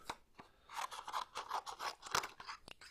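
Scissors snip through paper while a DIY paper cutoff wheel is cut out, giving a close series of quick crisp cuts and scraping crunches in an uneven rhythm. No voice is heard over the cutting.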